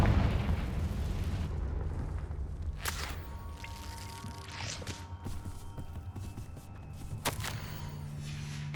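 Confringo blasting spell from the Hogwarts Legacy video game, cast at a cave: a rumbling explosion opens and decays into a low roar, followed by a few sharper cracks and pops, fairly faint overall.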